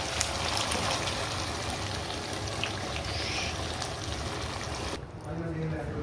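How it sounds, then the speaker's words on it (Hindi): Six cups of water poured into a pot of soaking rice for white pulao: a steady, close, splashing rush that runs for about five seconds and then cuts off, leaving quiet kitchen sounds. "तो 250 ग्राम के 3 कप मैंने चावलों के लिए थे, इसलिए मैं 6 कप ये पानी के अब ऐड करती हूँ।"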